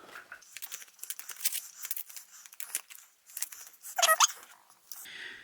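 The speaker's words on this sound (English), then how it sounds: "So let's give them a good shuffle." A deck of prompt cards for a reading board game being shuffled by hand, with quick papery riffles and flicks that burst and pause, ending in a louder ruffle near the end, close up with no talk.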